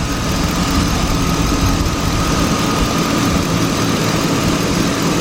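A Chevy Tahoe engine, one that stalls once warm, idles steadily at close range with a constant low rumble and a faint hum, running alone without any voices throughout.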